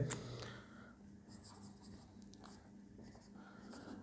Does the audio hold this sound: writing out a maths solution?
yes